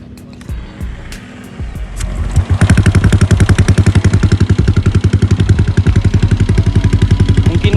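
Honda Vario 125 scooter engine with a modified setup, a few starter clicks and then a loud, rapid, steady thumping idle close by.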